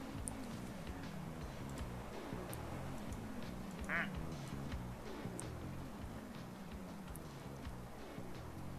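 Ducks quack in short, faint, scattered calls over a dense, steady background hum, with one brighter squawk midway.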